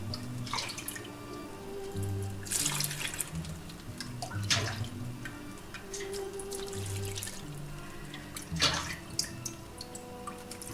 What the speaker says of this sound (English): I'm just going to use a ladle for now until it's light enough for me to lift, and I'm just going to pour it on top.